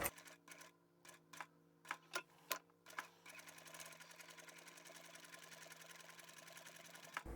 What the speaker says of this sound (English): back stitching here, and then I'll come around the other side